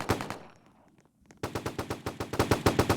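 Rapid gunfire in the Roblox shooter Bloxstrike: a short burst up front, a brief lull, then a steady run of loud, evenly spaced shots that carries on to the end.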